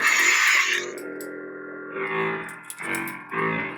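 A buzzy electronic lightsaber hum from a motion-controlled Saberforge Archon saber with a Proffie board surges and swells with motion, dropping to a lower drone, then flaring again in short bursts, close and fairly loud.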